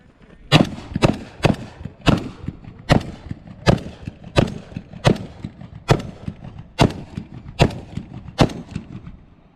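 Rifle gunfire during a recoil management drill on a shooting range: about a dozen sharp, loud shots fired one after another at a steady pace, each with a brief echoing tail, and no speech between them.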